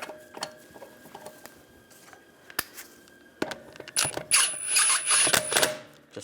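Metallic clinks and rattles as a lug stud is started by hand on a 2001-2006 BMW 325Xi wheel, scattered light taps early, then a brighter burst of threading and jangling near the end.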